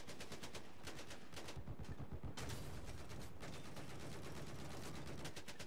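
Rapid automatic gunfire from a Battlefield 4 Conquest match on the Propaganda map, dense bursts of machine-gun fire and shots crackling continuously, loud and close, with a brief lull midway before the firing resumes.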